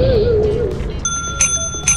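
Bright bicycle-style bell rings twice in the video game Lethal Company, sharp metallic dings standing out after a short voice-like sweep at the start.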